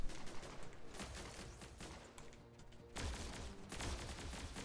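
Gunfire in the video game G.I. Joe: Operation Blackout, with rapid bursts of shots fired in quick succession, fairly faint and continuous.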